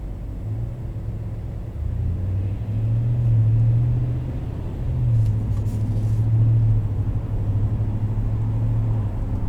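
A 2014 Ram 1500 R/T pickup truck driving in traffic, with a steady low engine rumble that swells and eases as it accelerates, heard from inside the cab with no talk.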